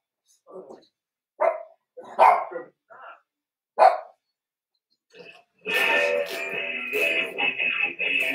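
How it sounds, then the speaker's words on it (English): Dogs bark in a handful of sharp, separate bursts over the first few seconds, at moderate distance. A denser, steady wash of noise takes over toward the end. "There go them dogs again."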